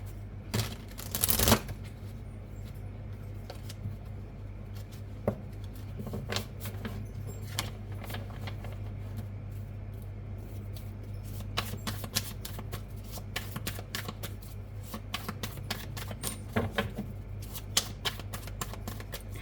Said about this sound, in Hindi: ओके, कार्ड्स निकालते हैं।